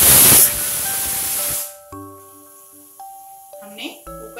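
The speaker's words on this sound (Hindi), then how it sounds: "हमने कुकर में 5 व्हिसिल लगा लिया है।" A pressure cooker boiling elephant foot yam (suran) lets out a loud, hissing steam whistle for about a second and a half, then cuts off, leaving quieter tones and faint clatter.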